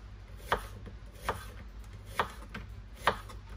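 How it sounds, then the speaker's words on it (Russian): A knife chops an onion into half-rings on a board for buckwheat plov: four crisp, evenly spaced cuts, close and distinct, with no talking. "Теперь нарежем лук."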